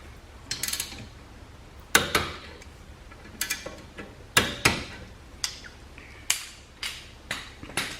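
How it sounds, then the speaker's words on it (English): A wrench tightens the brake caliper bolts on a MK7 VW Golf to torque, producing short bursts of crisp, close metallic ratchet clicks repeated roughly every half second to second, with no talking. "we'll get the caliper bolts torqued down"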